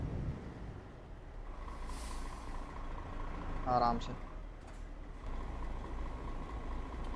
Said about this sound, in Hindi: अपना ट्रक भी आराम से चल रहा है